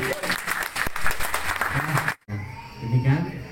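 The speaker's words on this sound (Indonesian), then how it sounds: "Tepuk tangan semua" A ceremony crowd breaks into brisk, loud applause at the launch of a white porang export shipment to Vietnam, the clapping cutting off abruptly before a voice carries on speaking.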